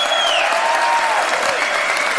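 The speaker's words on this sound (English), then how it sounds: "give your candidates one great big round of applause" A crowd at a Reform UK local election event applauds its candidates, steady dense clapping throughout, with a faint whistle-like tone sweeping above the noise.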